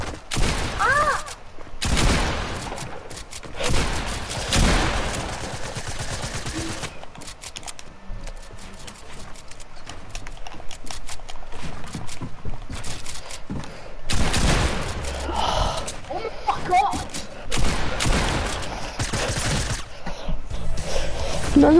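Video game gunfire crackles in repeated loud bursts and sharp volleys across some twenty seconds, with quieter gaps of clicking and rattling between them and occasional talk underneath.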